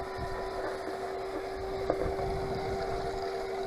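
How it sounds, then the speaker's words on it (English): A gold wheel concentrator running outdoors at a prospecting wash plant: a steady, even mechanical hum with a constant tonal whine and faint background noise, and no voices. "Okay, I got my gold wheel running."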